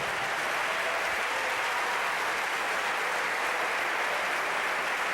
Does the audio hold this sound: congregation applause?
yes